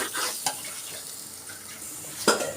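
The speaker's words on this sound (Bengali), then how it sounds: "খুব ভালো করে ভাজতে হবে চালটা চালটা যত ভাজা হবে তত বিরিয়ানিটা ভালো হবে" Rice for chicken biryani frying and being stirred in a pan, a steady sizzle broken by two sharp scrapes of a utensil against the metal, close and alone with no talking.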